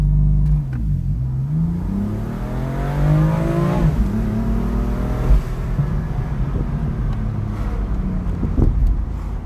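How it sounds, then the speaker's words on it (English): A 2017 BMW M4 Competition launches hard under launch control: engine revs rising in sweeping harmonic climbs through quick upshifts, a brief bog near the start, loud, close and continuous with no talking. "So let's try launch control. Hopefully it launches. Foot on the brake, launch control active."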